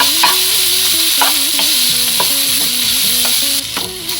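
Ground raw mango and coconut being stirred into hot oil with curry leaves in a pan, a steady sizzle under repeated scraping strokes of a spatula, close and fairly loud, with no talking.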